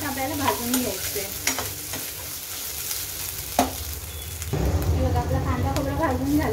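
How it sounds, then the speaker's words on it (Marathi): Onion, coconut, ginger and garlic dry-roasting in a pan while a spoon stirs them, giving steady scraping and soft sizzling throughout, louder and denser frying noise in the final seconds, with no talk. "हे आता लालसर होईपर्यंत आपल्याला भाजून घ्यायचं आहे।"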